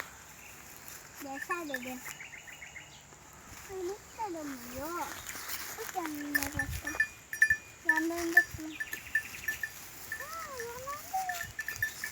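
Several lambs bleat in short, wavering cries, some near and some farther off, while a person talks quietly and a bell clinks faintly.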